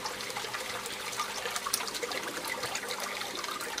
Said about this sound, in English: You can see the siphon is starting to flush now.